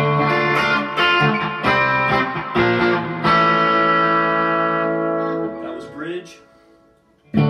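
A Fender Squier Affinity electric guitar played through distortion: sustained, buzzy chords and notes ring out one after another, then fade near the end before a sudden new attack.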